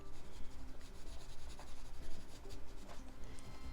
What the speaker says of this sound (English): I'm just using the side of my pencil so that it's a little bit more organic